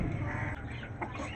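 Hen clucking in the rain, a few soft, close clucks over a steady wash of rainfall noise, with no talk.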